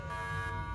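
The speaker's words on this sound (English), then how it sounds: "What's that sound? That's the alarm." An electronic alarm sounds at an airport: a steady, buzzing tonal drone heard for under a second, moderately faint and unbroken, with no voices.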